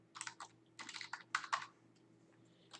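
An ID number is typed on a computer keyboard in quick bursts of soft, close key clicks, separated by short pauses, with a faint steady hum in the background.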